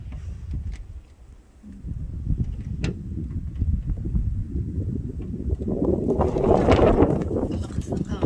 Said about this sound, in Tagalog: Ang lakas po ng hangin.